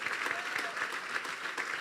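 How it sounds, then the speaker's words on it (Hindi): A crowd at a church sermon claps steadily, a dense, even patter of applause that carries through the whole moment. "जोरदार तालियां यीशु के जलाल के लिए।"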